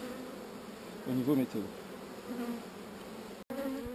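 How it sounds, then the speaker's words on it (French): Honeybees from an aggressive hive pour out to defend it, a dense buzzing hum heard close up. Someone speaks briefly over the drone. "Là, vous avez l'aspect d'une ruche agressive, donc énormément d'abeilles sont sorties pour défendre."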